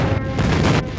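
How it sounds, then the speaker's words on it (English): Airstrike explosions in the shooter game Call of Duty Mobile, heavy booming blasts with rumbling low end that roll close together in quick succession and stay loud throughout. "Friendly airstrike incoming."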